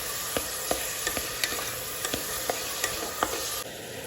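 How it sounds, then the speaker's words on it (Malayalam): Sliced onions sauté in a pan for Kerala-style meat rice, a steady close sizzle punctuated by regular sharp clicks of a spatula stirring against the pan. "നന്നായിട്ട് വഴറ്റി കൊടുക്കാം. നല്ല ബ്രൗൺ കളർ ആകണം സവാള"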